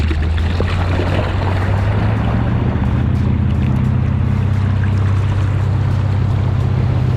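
A direct drive ski boat cruising at about 9 miles an hour, its engine droning in a steady loud low hum, mixed with constant water rush and wind buffeting the microphone throughout.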